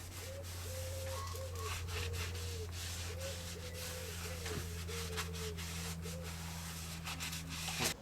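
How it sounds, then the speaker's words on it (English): A schist stone disc basin is polished with a soft, steady rubbing and sanding noise over a constant low motor hum. It is quiet and continuous throughout, with no voices. "Polishing the basin adds to its efficiency."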